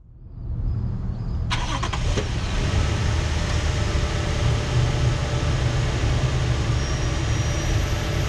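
A 2022 Toyota Tundra CrewMax pickup engine fires up with a short burst of cranking clatter, then settles into a steady, close, full rumble as the truck gets underway.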